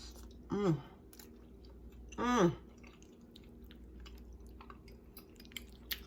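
Two short, wet bites and chews of baked macaroni and cheese with a crumb topping, close to the microphone in a quiet room, separated by a pause, with faint clicks afterward.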